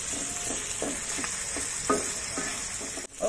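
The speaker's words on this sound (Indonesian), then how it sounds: "Oke, kita goreng dulu bawang." Onions and shallots fry in hot oil with a steady close hiss, broken by regular soft scrapes of a spatula stirring the pan, and end on a brief clatter, with no voices.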